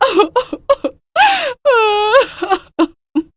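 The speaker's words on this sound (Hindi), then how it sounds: "अचानक से वो जोर जोर से रोने लगती है।" Woman wailing loudly in repeated bursts, with long rising and falling cries broken by short sobbing gasps, close and alone without talk.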